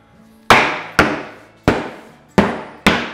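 A mallet taps a wooden cabinet top down into a dado, five sharp solid knocks at roughly half-second intervals, close and loud with short decays.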